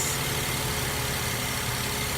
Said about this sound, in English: the exhaust is burbling a little bit, which sounds pretty cool